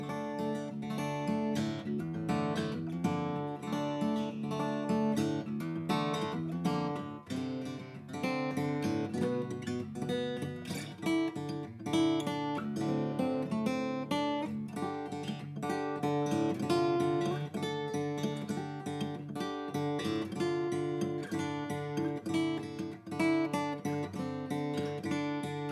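An acoustic guitar plays a song's full acoustic section, steady strummed and picked chords ringing continuously at moderate level with no voices.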